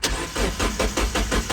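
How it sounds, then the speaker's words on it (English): A Mazda Miata engine cranks with a rapid, rhythmic churning from the starter, repeating steadily without catching. "now it's time to crank the engine"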